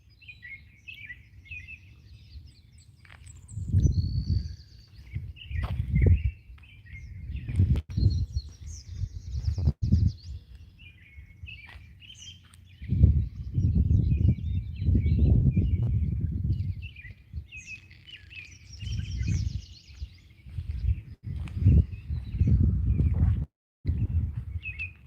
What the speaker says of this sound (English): Hear that robin singing?